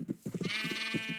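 Sheep in the video game Minecraft bleat in a quick run of several short, wavering calls, fairly close and clear with no talking over them.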